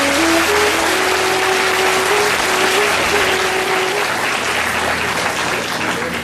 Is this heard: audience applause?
yes